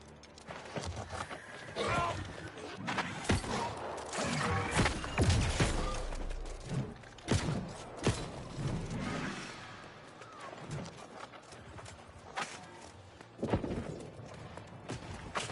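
Horse hooves clip-clop in the fantasy video game New World Aeternum, a steady run of thudding footfalls mixed with game effects and crashes, moderately loud and continuing across the whole stretch.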